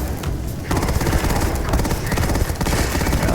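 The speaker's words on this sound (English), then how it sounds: "Might have something to do with the fact I'm shooting them" The Acid Rain weapon in Starfield fires in dense, continuous rapid bursts, loud and close, with a brief pause just before the shooting resumes.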